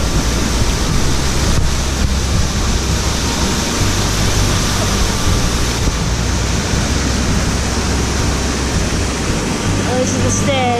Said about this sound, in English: There's the water.